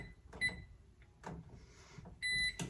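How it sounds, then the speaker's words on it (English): A kitchen oven sounds short electronic beeps while it is set to preheat to 400 degrees, one brief chirp early and a longer sustained tone near the end, amid quiet room noise. "Oh, preheat the oven. We're gonna do 400."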